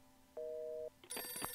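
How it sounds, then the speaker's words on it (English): A telephone in the video game For the People gives a single steady electronic ring, followed by a short clatter of in-game sounds; no talking. "Another phone is ringing."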